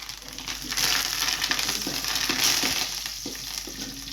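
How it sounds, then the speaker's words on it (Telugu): Steady crackling sizzle of curry leaves frying in hot oil with tempering seeds, with occasional scraping stirs, close and fairly loud throughout. "తాలింపు గింజలు వేగాక కరివేపాకు కూడా వేసుకుందాము."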